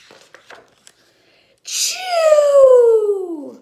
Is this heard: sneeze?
yes